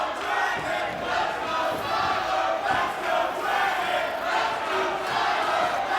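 A wrestling crowd at a Ring of Honor main event, Tyler Black versus Bryan Danielson, chants in rhythmic surges that rise and fall steadily, loud and filling the hall.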